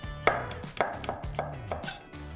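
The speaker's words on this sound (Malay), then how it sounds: "Bawang putih pun kena potong juga." A knife chopping garlic cloves on a cutting board for a black pepper beef dish, striking in a loose series of about six crisp, close knocks with brief gaps between them, and no speech.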